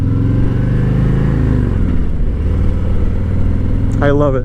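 A Harley-Davidson Street Glide Special with a Milwaukee-Eight 114 engine pulls away under strong torque, a loud, steady low engine drone rising in pitch as it accelerates, with someone speaking briefly near the end.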